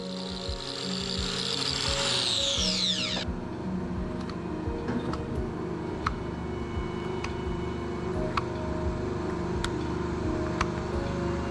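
A power grinder trims a cow's hoof, first with a sweeping rising whine that cuts off, then a steady mechanical hum with sharp intermittent clicks and scraping, close and fairly quiet.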